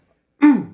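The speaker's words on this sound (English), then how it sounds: "Why do I start coughing every time we hit the record" A single short, close throat clear with a raspy cough-like edge breaks a moment of silence in a podcast recording, fading quickly.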